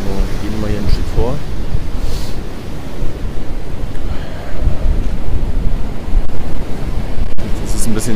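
Storm surge waves pounding the Baltic Sea coast in winter, a continuous loud roar of surf mixed with strong wind buffeting the microphone, with faint bits of talk.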